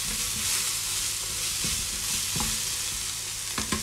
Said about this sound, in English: All the onions cook. And the mushrooms are cooking.